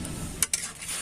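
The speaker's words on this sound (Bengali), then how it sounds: "ঢাকনাটাকে এবার আমি তুলে নেব, একটুখানি নেড়ে দেব।" A pot lid lifted off sooji rasgulla, then a brief stir: two quick metallic clinks close together, the first sharper, within a short moment of quiet bubbling and no voices.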